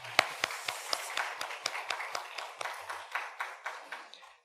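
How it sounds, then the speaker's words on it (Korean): A church congregation at Sunday worship claps for Sunday school teachers and middle and high school students: a quiet, loosely rhythmic run of distinct hand claps from a small group, fairly even in pace and gradually softening. "오늘 중고등부 학생들 모두 다 우리 위해서 서로를 위해서 박수하겠습니다."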